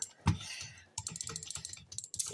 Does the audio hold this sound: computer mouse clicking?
yes